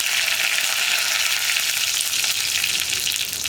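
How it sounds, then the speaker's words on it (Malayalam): Curry leaves and dried red chillies sizzle hard in hot coconut oil after mustard seeds have popped, a dense, steady crackling hiss filling the whole moment with no voices. "ഇതിലേക്ക് കറിവേപ്പിലയും വറ്റൽമുളകും ചേർക്കാം"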